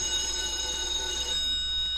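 An old telephone bell ringing indoors, a continuous bright metallic trill heard alone at moderate loudness for a couple of seconds.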